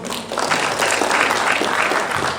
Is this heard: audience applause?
yes